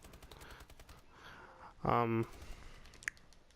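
Call of Duty gameplay gunfire: a single short burst of rapid automatic fire stands out clearly in the middle, surrounded by low, busy background game sound.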